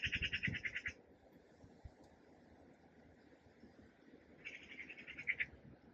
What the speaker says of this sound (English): Birds are giving us a nice soundtrack today.